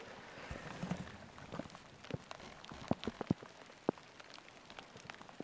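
Rain patters on a hard surface, with scattered drops tapping irregularly, some sharp and close, over a soft steady wash.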